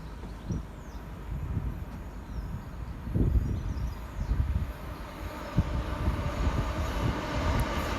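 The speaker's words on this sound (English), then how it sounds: "A Chiltern Railways train passes on the bridge above." A Chiltern Railways train crossing a bridge overhead gives a low, muffled rumble with intermittent thumps and rattles, moderately distant and steady throughout.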